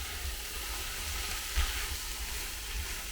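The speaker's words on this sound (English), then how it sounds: "put the red cabbage in. You need to give it a jolly good stir, because that wants some of that lovely butter on it too" Red cabbage sizzles and fries in butter while being stirred, a steady close hiss with a low rumble underneath and one brief louder scrape partway through.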